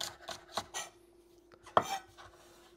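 A knife chops roughly through scallions on a cutting board for a shiitake mushroom stir-fry, a handful of close, sharp thuds spaced unevenly with quiet gaps between.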